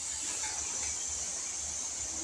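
A PurSteam 10-in-1 steam mop hisses steadily as it steams a floor, a constant close sibilant rush with no breaks or talk.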